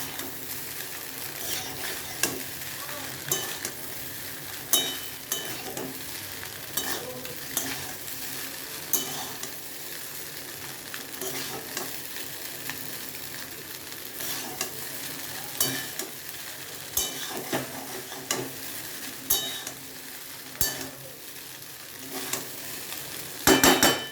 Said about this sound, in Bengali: মিশিয়ে পাস্তাটা সিদ্ধ করে রেখেছিলাম, পাস্তাটাও মিশিয়ে দেবো। পাস্তাটা মিশিয়ে ভালো করে মিক্সড করবেন।